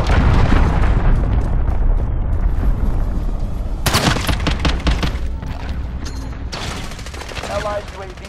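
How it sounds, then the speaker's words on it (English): Cruise missile strike in Call of Duty: Modern Warfare, with loud rumbling blasts and a dense fusillade of explosions and gunfire rolling continuously, sharp bursts punctuating the roar near the middle and end. "Allied cruise missile launched."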